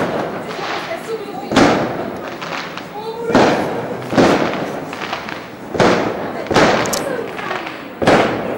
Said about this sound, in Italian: Senti che botti!